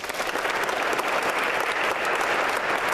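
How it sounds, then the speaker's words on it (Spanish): Steady applause from a group at a taekwondo training session, dense continuous clapping at even loudness throughout, with no voices standing out. "Un aplauso por él."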